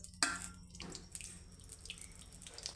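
Cooking oil, four ladlefuls, is poured into a pan while making masoor curry, giving soft liquid splashes and drips in a few brief bursts, faint and close, with no talking.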